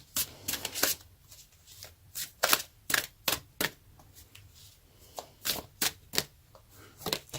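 An Energy Oracle card deck is shuffled close by in a series of crisp, snappy riffles and slaps that come in uneven clusters with brief pauses, with no voice.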